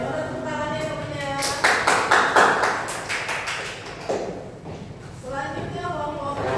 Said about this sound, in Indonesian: mana tepuk tangannya temennya